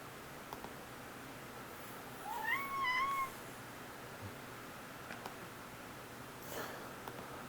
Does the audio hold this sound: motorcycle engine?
no